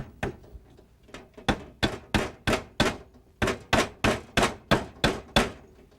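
Hammer driving staples to fasten Romex electrical cable to wooden wall studs, a steady run of about fifteen sharp, close, loud blows in quick rhythmic bursts with brief pauses between.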